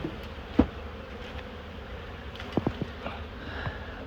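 Honey bees at an apiary hum in a steady close drone, with a few sharp knocks and clicks from handling the hive frames scattered through it.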